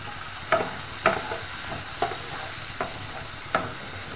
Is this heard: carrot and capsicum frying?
yes